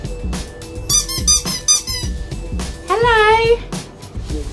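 A squeaky dog toy is squeezed, giving a long, wavering, high squeak close by, alongside shorter chirpy squeaks and people talking.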